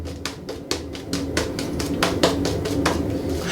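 Shaving brush whipping Wilkinson Sword shaving cream into a dense lather, a quick run of rhythmic, fairly close swishing and slapping strokes repeating about every third of a second, with no talk.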